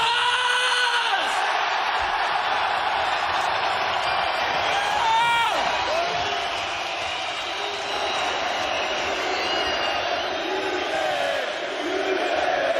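A packed arena crowd at a PFL Europe fight in Belfast roars, cheers and screams after a knockout, a dense sustained wall of voices with rising shrieks and whoops throughout.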